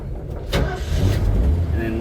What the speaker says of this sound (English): So I'm just throwing it in first to get her moving